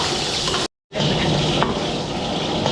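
Garlic and onion sizzle steadily in a hot pan, a dense continuous frying hiss broken by a brief full silence before the sizzling resumes, close and loud with faint stirring scrapes.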